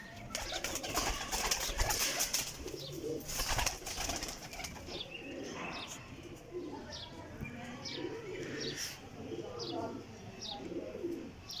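A breeder pair of Frizpori pigeons coos softly and repeatedly, with some chirps and faint wing or cage rustles. The birds sound close, and no one speaks.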